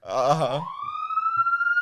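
A siren-like rising wail starts after a brief burst of voiced sound and holds steady and loud to the end. The wail may be a voice imitating a siren.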